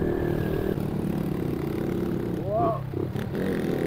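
A motorcycle engine idles steadily through a day ride on mountain roads, a continuous low rumble with a brief swell in the middle, while a rider's voice is heard over it.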